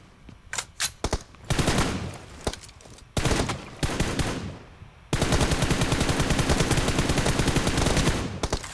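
Gunfire in the mobile battle royale game PUBG Mobile: scattered single shots give way to sustained rapid automatic bursts, loud and close, with no talking over them.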